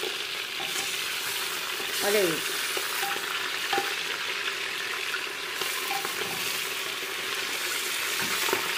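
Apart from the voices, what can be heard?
food frying in hot fat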